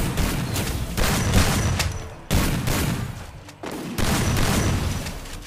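Sustained bursts of automatic gunfire in the battle-royale game Free Fire, loud and dense for most of the stretch and broken by two short pauses before the shooting resumes.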